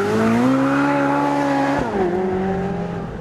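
A Ferrari 458 Speciale engine howls loudly under acceleration, its steady rising pitch cut by a sharp, quick gearshift near the middle before the note drops and climbs again, heard from close by.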